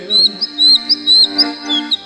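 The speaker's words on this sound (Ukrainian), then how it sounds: "і соловей в саду співає" A nightingale sings in quick, bright chirping phrases that repeat in a steady rhythm over a sustained musical backing, loud and close.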